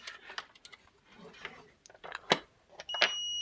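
A multimeter in continuity buzzer mode checks the fuse of an induction cooker. After faint handling clicks and taps, a steady high-pitched beep sounds and holds at the end.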